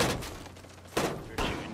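Gunfire bursts in the tactical shooter game Rainbow Six Siege during a close firefight near an objective, with two sharp loud shots standing out over a steady background of game noise.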